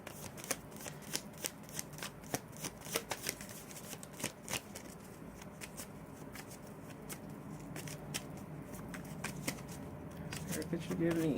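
Oracle cards for a love reading are shuffled repeatedly, giving a close run of rapid riffling snaps and papery flutters that continue for several seconds.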